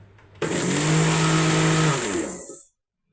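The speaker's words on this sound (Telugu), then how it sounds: "ఉప్పు వేసుకొని మరొకసారి మెత్తగా మిక్సీ చేసుకోవాలి." A kitchen mixer grinder whirs loudly as it grinds spice powder with salt, starting abruptly and running at a steady high whine for about two seconds before winding down to silence.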